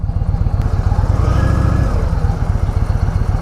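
BMW motorcycle engine running loud and close with a rapid, steady low-pitched throb that rises slightly in the middle and holds, with no break.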